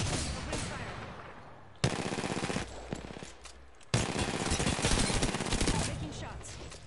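Rapid automatic gunfire from weapons in a one-on-one video game match, dense bursts that cut off and restart in loud stretches, with brief pauses between volleys.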